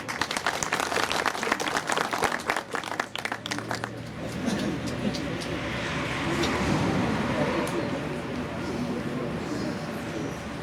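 Audience applause at a fish restaurant opening ceremony, greeting the Akçabat mayor as he takes the microphone; dense clapping fills the first four seconds, then fades into a crowd murmur and background noise.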